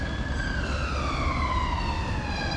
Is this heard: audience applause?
no